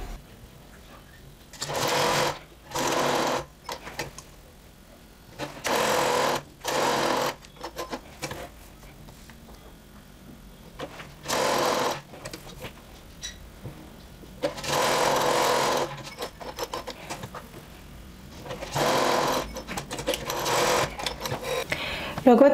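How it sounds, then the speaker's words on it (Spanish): A sewing machine stitches a blouse seam in repeated bursts of fast, close mechanical whirring, each lasting a second or two, separated by short pauses while the fabric is repositioned. "Marqué el margen de costura y vamos a coser desde acá."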